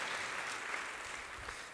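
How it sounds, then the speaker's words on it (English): Audience at a church service applauds students, a short burst of steady, moderately distant clapping that fades slightly toward the end. "Let's give these students a round of applause."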